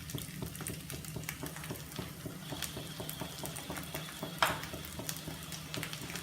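Idli stuffing with salt, red chili powder and coriander powder being stirred in a hot pan, a steady scraping and sizzling with a faint spoon knock partway through.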